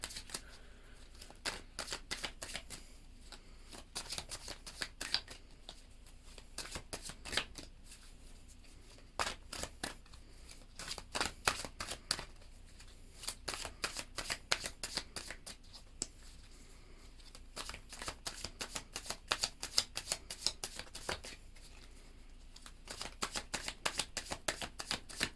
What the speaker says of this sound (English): let's give everything a really good shuffle